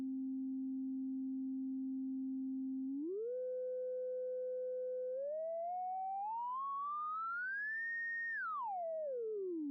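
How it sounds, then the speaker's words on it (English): A pure synthesizer sine tone on a single harmonic from a VCV Rack patch, holding steady, stepping up in pitch, then gliding higher and dropping back, heard alone and clean for about ten seconds. "they really are sine tones in and of themselves at those frequencies"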